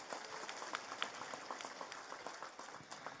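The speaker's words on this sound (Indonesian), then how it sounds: "Saya minta tepuk tangan dulu dong." An audience in a village gathering claps at a preacher's request, a soft, distant patter of many hands with scattered sharp individual claps.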